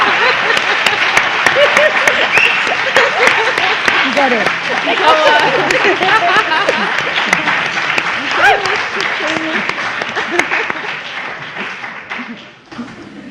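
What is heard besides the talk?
audience clapping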